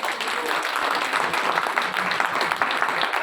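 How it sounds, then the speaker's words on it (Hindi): Conference audience clapping steadily and densely throughout, a continuous close wash of applause with no pauses. "हाथ खड़े करो और तालियां चलने दो धड़ाधड़"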